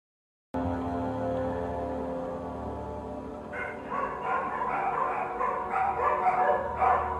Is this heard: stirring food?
no